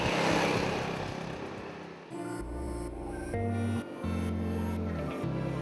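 Sym Maxsym 400 scooter engine running with contained vibration, a fairly faint steady hum shifting between pitches as the revs change, with no talk over it.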